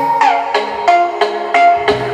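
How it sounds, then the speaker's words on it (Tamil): Music plays loudly from a homemade Bluetooth speaker, with six evenly spaced plucked or struck notes over a sustained tone, close, full and steady without talk. "இப்போ சவுண்ட் இன்க்ரீஸ் பண்ணுறேன்."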